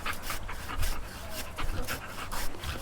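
A dog panting in the video game Teardown: rhythmic, breathy huffs repeating about every half second, close and fairly loud, with faint background sound beneath.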